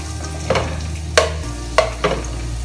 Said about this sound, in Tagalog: Magigisa tayo ng sibuyas bawa.